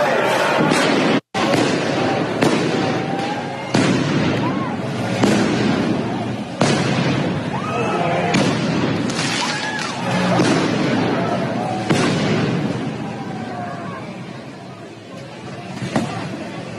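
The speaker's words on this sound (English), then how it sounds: "Antifa in Portland throwing fireworks at police officers" Fireworks thrown at police during a Portland protest, with repeated loud bangs and pops scattered through a noisy street crowd, with voices and shouts mixed in.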